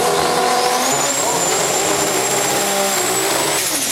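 A 68 Camaro drag racing car making a pass at a drag strip, its engine a loud, sustained roar that keeps building in pitch over the whole stretch.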